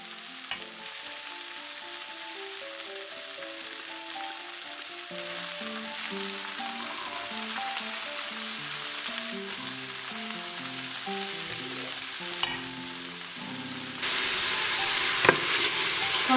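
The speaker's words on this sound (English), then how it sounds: "I'm going to saute them together for about 3-4 more minutes." Soaked, washed and drained rice sautéed in a pan, giving a steady frying sizzle with light stirring scrapes throughout, growing a little louder and brighter near the end.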